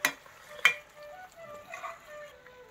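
Kadai chicken sizzling in a pan as it is stirred, with two sharp utensil clacks against the pan at the start over a soft, close-up sizzle.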